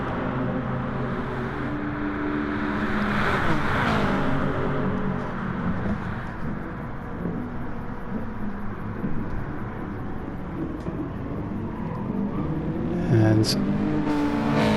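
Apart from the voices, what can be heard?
touring cars racing at Monza in online racing video game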